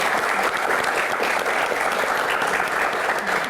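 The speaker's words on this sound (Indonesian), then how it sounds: "langsung saja kita berikan tepuk tangan dulu untuk Ibu Dwi Korita" An audience gives dense, sustained applause for Ibu Dwi Korita at a BMKG Q&A event, a continuous even roar of many clapping hands throughout, with no talk.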